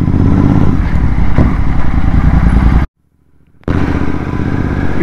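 A Royal Enfield-style Continental GT 650 motorcycle fitted with a Red Rooster aftermarket exhaust rumbles loudly and steadily while riding on a road, cutting out abruptly for under a second of near silence before the throaty engine roar resumes.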